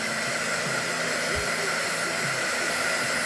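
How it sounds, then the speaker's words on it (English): Heat gun blowing hot air to dry craft glue, a continuous loud hiss close by. "Let me get my heat gun and we will dry this glue."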